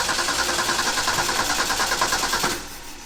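A 1965 Ford F250 service truck, bought at a farm auction after sitting parked for 17 years, runs at a steady, loud rumbling idle close by before the engine note drops off near the end.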